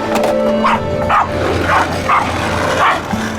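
A Corgi barks repeatedly at children, several short loud barks in an uneven series, close by.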